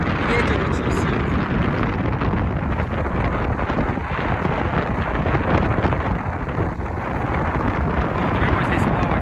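Strong wind roars steadily into the microphone at a seaside bird island by the sea near Yeysk, a constant loud buffeting rush with no letup.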